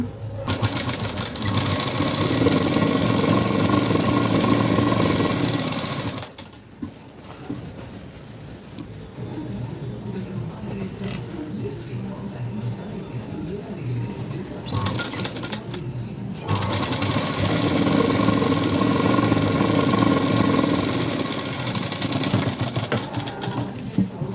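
A sewing machine stitches the front of a Sabyasachi blouse in loud rapid bursts of running stitches, pausing for a quieter stretch in between before running again, close by with no voices.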